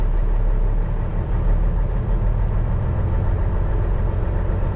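A Peterbilt truck engine with an injector out and fueling trouble, shaking as it runs: a loud, steady, low rumble that holds constant close by, with no clear rise in revs.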